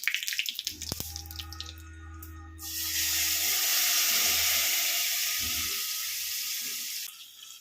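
Hot oil tempering of mustard seeds, dried red chillies and curry leaves is poured into a Kerala okra tamarind curry, a few clinks and a low simmer giving way to a sudden broad hissing sizzle that fades over several seconds.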